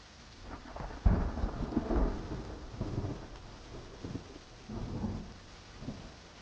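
Deep rolling thunder rumbles in repeated waves over a soft, steady patter of rain, heard fairly faint and distant during a storm.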